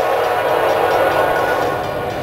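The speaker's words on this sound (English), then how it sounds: "There's a train coming." A freight train rolls past at close range in Porter, Indiana, a steady loud rumble of wheels and cars filling the whole stretch without break.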